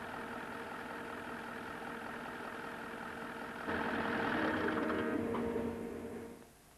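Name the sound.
diesel fuel injection pump running on a test machine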